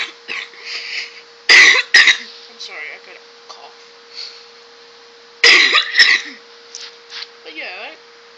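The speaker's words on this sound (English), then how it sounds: "I'm sorry, I gotta cough." Two bursts of harsh coughing, one near 1.5 seconds and a louder fit around 5.5 seconds, close to the microphone from a man chatting about a Smite match, with quieter speech-like sounds and a steady hum between them.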